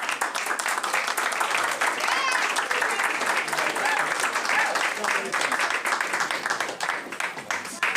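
During a school board meeting, the audience breaks into sustained, lively applause for the school music program, with scattered voices and cheers mixed into the clapping.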